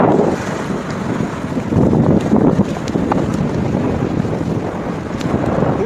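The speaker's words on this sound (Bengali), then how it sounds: "খুবই হাওয়া, খুবই হাওয়া।" Strong wind near the Buddha mountain temple in Pattaya, Thailand, buffeting the microphone with loud, gusty low rumbles that swell and dip without a break, and no voices over it.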